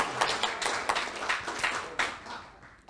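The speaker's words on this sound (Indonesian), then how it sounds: "Tepuk tangan jangan tanggung-tanggung dong." A seminar audience claps together at a talk, a dense patter of many hands rising and falling in soft waves before gradually thinning out.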